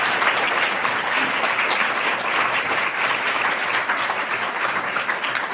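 An audience welcomes speakers at a talk with steady, sustained applause, many hands clapping at once at an even level throughout without pause.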